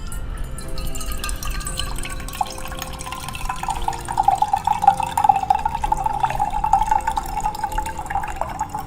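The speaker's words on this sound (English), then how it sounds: "So I'll fill the water in this mocha pot." Water is poured steadily into the lower chamber of a moka pot, a continuous trickling, liquid splash with a rising tone over about nine seconds.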